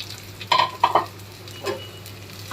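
Cooked cumin rice stirred into a pan with chopped coriander, giving a few soft scraping strokes against quiet background hiss, with no talking.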